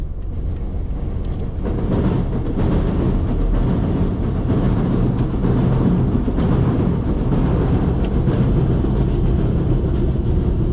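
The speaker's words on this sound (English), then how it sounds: "And this is the elevated section of the tracks for the number 7 train." Loud, steady rumble and clatter of a New York number 7 elevated subway train rolling by close overhead in Queens, sustained throughout with metallic rattling and no voices.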